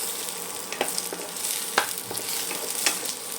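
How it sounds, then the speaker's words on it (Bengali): Boiled new potatoes frying in hot oil, a steady bright sizzle broken by several sharp scraping clicks of a spatula stirring them in the pan, close and clear with no talk. "দেখুন তেল গরম হয়ে গেছে, আলুগুলো এর মধ্যে দিয়ে দিলাম। আলুগুলোকে একদম ভালো করে নাড়াচাড়া করে একটু লাল লাল ভেজে নিতে হবে।"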